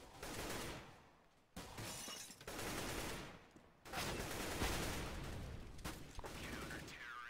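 A Molotov burns and a grenade blasts in a Counter-Strike round, heard as loud crackling, roaring bursts with sharp gunfire-like cracks and abrupt cuts, set apart from each other over several seconds.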